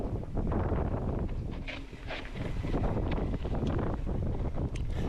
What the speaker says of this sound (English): Quite windy when I did this Recce ride.